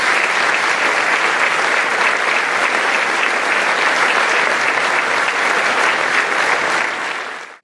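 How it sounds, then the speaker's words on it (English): Loud, sustained applause from an art festival audience, a steady dense clapping that holds for several seconds before tapering off at the end. "Let's give them a nice round of applause."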